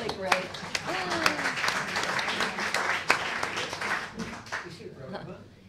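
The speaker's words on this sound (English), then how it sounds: "Can you all give yourselves a round of applause?" An audience applauds with scattered claps building into steady applause, while a voice talks over it and the clapping fades toward the end.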